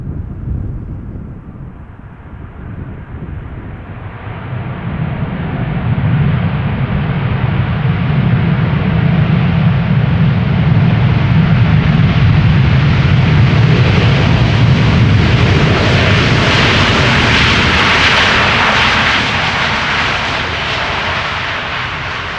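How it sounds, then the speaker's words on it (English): KLM Boeing 777-200 airliner arriving at Amsterdam Schiphol from Johannesburg: a loud, close jet-engine roar that swells, holds for several seconds, then eases slightly, with wind buffeting the microphone and no talk. "The next airplane after this one is going to be a 777-200 from KLM,"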